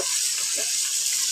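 Browned onions fry in a pan after a splash of water goes in, giving a loud, steady hiss and sizzle close by with no voices.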